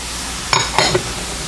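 Peppers and onions stirred into half-cooked sausage browning in a pan, with a couple of short scraping spatula strokes over a faint sizzle.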